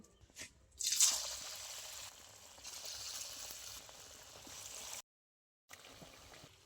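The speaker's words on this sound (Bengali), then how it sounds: "একই রকম ভাবে সবকটা বড়া এবার আমি ভেজে নেব" Drumstick flower fritters frying in oil. A wet sizzle bursts in near the start and holds as a moderate, bubbling hiss, cuts out briefly to silence, then resumes more softly.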